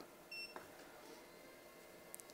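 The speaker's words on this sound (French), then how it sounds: "pour l'allumer, vous aurez un petit bip de démarrage" A Fossibot F2400 portable power station sounds a short, faint electronic start-up beep, followed by a brief click against a low background hiss.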